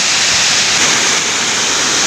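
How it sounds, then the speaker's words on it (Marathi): A waterfall in Chandranagar, Dapoli, Konkan roars as a loud, steady, broadband rush of water falling from a height, close by and with no other sounds. "उंचावरून पाणी पडतोय."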